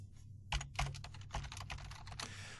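Someone types a SQL Express server name on a computer keyboard, a quick run of close key clicks in an irregular rhythm with a few harder taps, quiet and alone.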